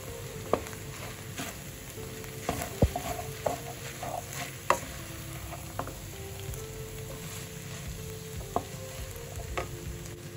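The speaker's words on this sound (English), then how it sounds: "Add remaining sauce and mix well." Sauce is stirred into a ramyun and rice stir fry, with a spatula scraping and clicking against the pan over a constant sizzle, close by and free of speech.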